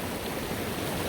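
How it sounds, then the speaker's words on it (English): A clear mountain stream runs along a hiking trail near a reservoir, giving a continuous, even rush of water, close and fairly soft, with no voices. "These mountain streams, creeks, whatever we're gonna call them, look at that."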